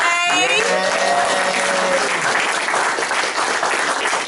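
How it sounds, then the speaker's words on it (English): Audience applause welcoming mediums at a spirit connections event, a steady, dense wash of clapping from a crowd, loud and continuous, with a brief voice at the start. "Warm round of applause!"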